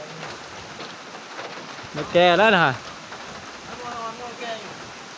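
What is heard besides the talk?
rain falling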